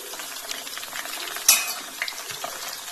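Banana slices fry in hot oil for banana chips, a soft continuous bubbling with light stirring scrapes and one sharp metallic clink midway.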